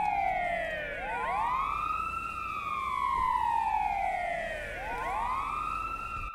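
A wailing emergency siren from an ambulance in a roleplay video game, rising and falling in long sweeps, fairly loud and steady throughout with no talk over it.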